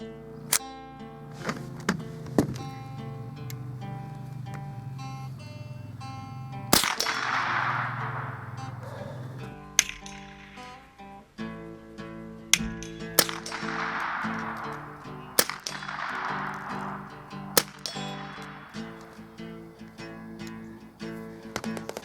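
Sharp single shots from a Remington 550-1 rifle at a 50-yard range, spaced out over about twenty seconds, each one followed by a ringing clang, with music playing underneath.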